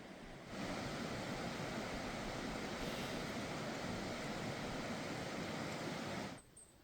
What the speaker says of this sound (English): You're right, I do hear a river.